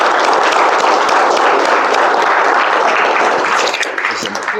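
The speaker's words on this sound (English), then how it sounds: "Let's have a huge, and I mean it, a huge round of applause for our Toastmaster of the Day, Toastmaster Kanika." Sustained audience applause at a Toastmasters meeting, a dense steady clatter of many hands filling the room, tapering slightly toward the end.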